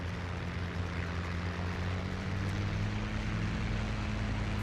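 A Bf109 fighter's engine drones steadily in the IL-2 flight simulator, a constant low rumble with a humming tone and no break, fairly quiet and heard alone.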